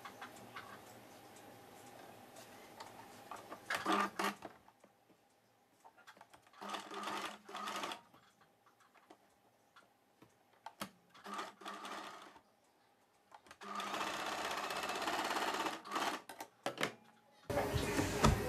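Sewing machine stitching potli buttons onto a blouse lining piece, running in several separate bursts of rapid mechanical whirring with quiet gaps between them, close and fairly loud, with no talk.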